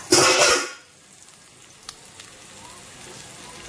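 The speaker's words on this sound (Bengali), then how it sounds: "এবারে আমি এর মধ্যে একটু বাটি ধোয়া জলটা দিয়ে দিলাম, হালকা নাড়িয়ে নিচ্ছি।" Water splashed into spices frying in a pan gives a sharp, loud hiss for about half a second, then fades to a soft, faint sizzle with light stirring noises.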